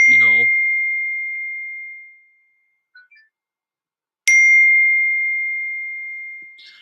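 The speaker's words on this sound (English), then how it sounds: "I just saw I got a text message. Hopefully the text doesn't beep anymore." A phone chimes for an incoming text message: two clear, bright dings a few seconds apart, each ringing out in a long fading tail, with a short voice-like sound at the very start.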